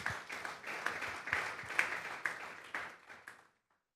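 A church congregation applauding with dense, rhythmic clapping that gradually fades away and ends in silence.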